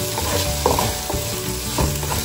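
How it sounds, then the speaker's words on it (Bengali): Potatoes and ginger-garlic paste sizzle and fry in a pan, with a steady hiss broken by a few scraping stirs of a spoon against the metal, close and fairly loud, no voices. "আলু দিয়ে দিয়েছি, আর আদা রসুনের পেস্টটাও এখন দিয়ে দেবো একসাথে, সবটা একটুখানি নাড়িয়ে চাড়িয়ে নেবো"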